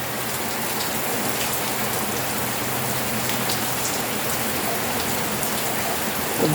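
Steady rain falls outdoors, a dense even hiss of drops pattering on surfaces throughout, with no talking.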